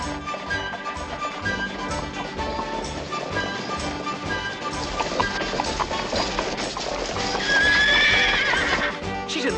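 Horses neighing and whinnying over steady clip-clopping hooves on a Paris street, loud and close amid a dense mix of period-drama music and action, with a bright whinny rising near the end.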